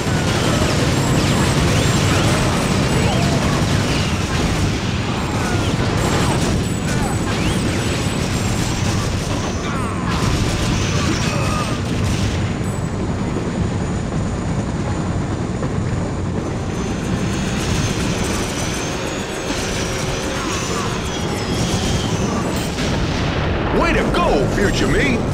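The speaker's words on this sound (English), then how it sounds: "You take down the chopper!" A helicopter is shot down in the video game Timesplitters: Future Perfect: a dense, continuous roar of aircraft engine mixed with repeated booming blasts and gunfire, loud and chaotic throughout, with no voices.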